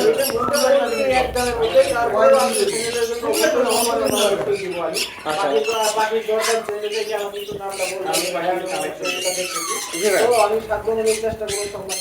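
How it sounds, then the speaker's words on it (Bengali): Lory parrots at a breeding bird farm squawk and chatter in a dense, continuous chorus of shrill, close calls. "এখানে চমৎকার কিছু লরি পাখি দেখছি"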